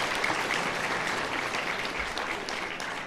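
Dense, sustained audience clapping in a lecture hall at an invited public talk by a city mayor, loud and even throughout with no voices on top.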